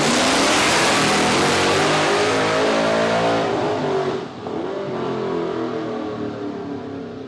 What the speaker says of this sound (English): Got the burnout. Nice and neat.